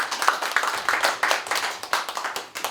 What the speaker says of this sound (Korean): 네, 박수해 주세요.